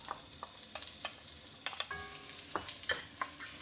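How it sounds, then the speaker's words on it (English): Ginger, garlic and onions sizzle in a hot pan, with a spatula scraping and stirring in short, irregular strokes up close over the steady crackle of frying. "Saute this until it's translucent or until the onions are done."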